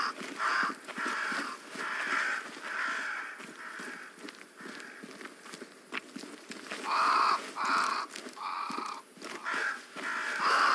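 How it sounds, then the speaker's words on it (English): Crows cawing in the video game Banishers: Ghosts of New Eden, repeated harsh caws in uneven groups, fairly close, with light footsteps beneath. "Crows. They flock to that great tree up there."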